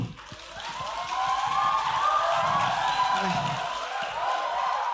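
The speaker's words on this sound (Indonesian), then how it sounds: "Tepuk tangan dulu untuk Afid." A lecture hall audience at an Indonesian university event breaks into applause and cheering, a dense, sustained wash of clapping mixed with crowd noise that swells and holds steadily.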